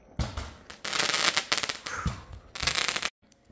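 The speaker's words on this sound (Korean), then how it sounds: "9시인데 이렇게 불꽃놀이를 합니다" A neighbour's fireworks go off at night in bursts of dense crackling and popping, loud and fairly close, with short gaps between the volleys before everything suddenly stops.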